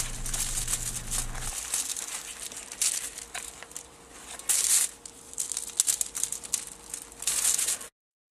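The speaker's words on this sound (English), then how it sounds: "we're going to break it apart into a finer powder with an increased surface area" Damp, clumped copper oxide is broken apart into finer powder in irregular bursts of crunchy, gritty crumbling that rise and fall for several seconds, then stop abruptly.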